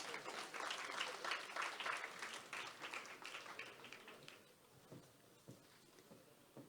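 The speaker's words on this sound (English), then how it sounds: "Let's give her another round of applause." Audience at a secondary school kick-off event applauds. The clapping is moderately dense at first, then thins to scattered claps as it fades out, and a voice is faintly present.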